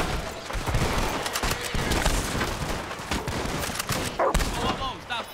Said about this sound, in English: Whoa, stop your fire!